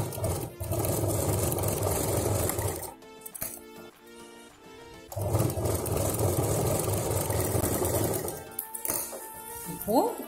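Sewing machine stitching a zipper onto a handbag, whirring in steady bursts with short pauses between runs, close and fairly quiet.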